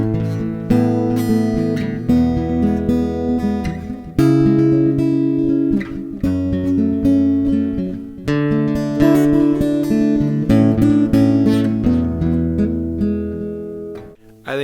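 Fender rosewood acoustic-electric guitar played through its electronics with delay and reverb, strummed chords ringing out in sustained sections with short breaks, loud and close with no talking.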